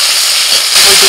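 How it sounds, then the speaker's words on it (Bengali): Mustard and poppy seed paste drops into hot oil in a pan, a loud steady steam-like sizzle and hiss that swells sharply partway through, with no talk over it. "এবার ওই তেলের মধ্যে আমি যে সরষে পোস্তটা বেটে নিয়েছিলাম সেটা দিয়ে দিচ্ছি"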